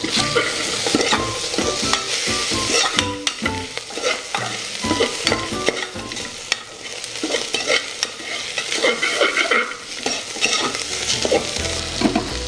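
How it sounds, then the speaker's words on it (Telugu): Green chillies, onion, tomato and carrot pieces sauté for a soup, with a spoon scraping and stirring repeatedly through a loud, steady sizzle in a close pan. "పచ్చిమిర్చి ఉల్లిపాయ టొమాటో ముక్కలు క్యారెట్ ముక్కలు వేసి కాసేపు మగ్గనిద్దాం"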